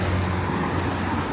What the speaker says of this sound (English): Now the traffic has picked up.